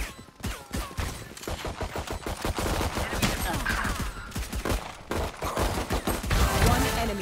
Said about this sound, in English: Shooting down the wall.